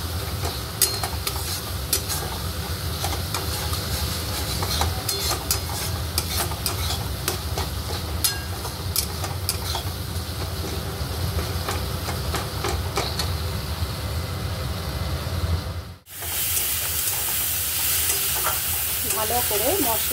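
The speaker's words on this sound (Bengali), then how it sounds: "ভালো করে মশলাটা আমি কষে নিয়েছি। দেখুন তেল বেরিয়ে গেছে।" Spiced masala with red chilli and turmeric powder frying in oil for a Bengali kasha echor jackfruit dish, a steady loud sizzle with spatula scrapes and stirring clatter throughout, briefly cut off near the end before resuming.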